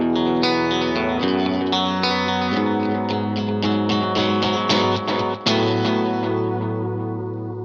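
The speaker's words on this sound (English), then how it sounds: "The next pedal in the chain is the transistor tape. That's kind of an echoplex sort of delay," Electric guitar run through a Line 6 Helix transistor tape delay modeled on an Echoplex, set to dotted-eighth repeats with a fairly high mix. Sustained, distorted chords and notes ring out with a steady wash of echoing repeats, played alone.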